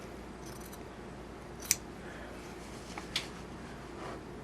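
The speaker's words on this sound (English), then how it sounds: "when I lift this and cut, I want to make sure I'm cutting on an angle" Scissors snip through quilting fabric at an angle, giving a couple of brief, quiet cuts up close over a low room hum.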